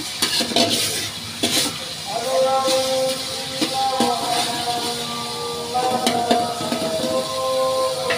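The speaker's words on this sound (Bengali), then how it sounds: "এগুলো পেঁয়াজের সাথে হালকা ভাজা ভাজা হবে।" Oil sizzles steadily in a pot as ingredients lightly fry with onions while a spoon scrapes and stirs, with clinks of utensils and a voice talking over the cooking.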